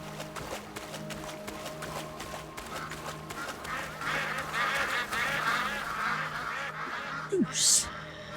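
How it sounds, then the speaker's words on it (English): Geese and ducks honking and quacking in the video game Crimson Desert, a busy run of repeated calls over game ambience, growing louder midway, ending in a short sharp squawk. "Goose."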